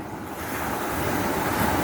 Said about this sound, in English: But look at the sea.